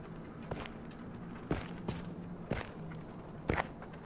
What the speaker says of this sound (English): hunter's footsteps.